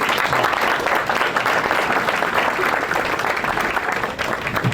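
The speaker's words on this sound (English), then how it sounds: "Please give another round of applause for Ms. Lorraine Lavender Sanders" Applause from guests at a formal community ball rings out loud and sustained, many hands clapping densely and evenly across the whole stretch with a faint crowd murmur underneath.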